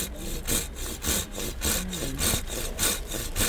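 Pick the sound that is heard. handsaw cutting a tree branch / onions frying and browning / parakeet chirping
handsaw cutting a tree branch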